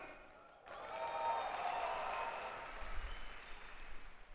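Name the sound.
audience cheering and applauding at event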